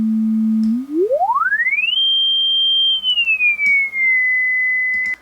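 A pure electronic tone from a VST plugin with smoothed parameter changes holds low, glides smoothly up to a high pitch, then eases partway back down and holds steady.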